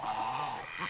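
On a farm, geese give a short nasal honking call, brief and fairly close.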